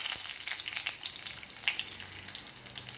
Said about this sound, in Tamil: கடுகு வெடிச்சு வரட்டும்